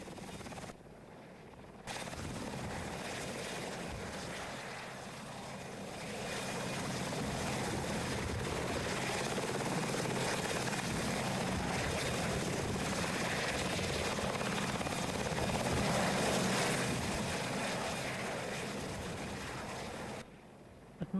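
A helicopter at the RAF Leeming Air Fair gives a steady, loud rotor and engine roar that holds for about twenty seconds, swelling slightly midway before cutting off.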